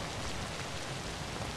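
Rain in the video game Zombi falls as a steady, dense hiss of drops on surfaces, even and continuous with no voices over it.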